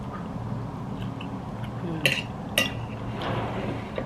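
Cutlery scraping and clinking on a plate while eating an egg-white frittata, low clatter with two sharper metallic clinks midway, close and unhurried, no speech.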